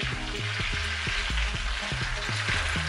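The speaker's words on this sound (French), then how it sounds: "on va venir déglacer au vin blanc le tout" A leg of lamb in a pan being deglazed with white wine, giving a continuous bright sizzle with crackling, close up and fairly loud, over a low rhythmic hum in the background.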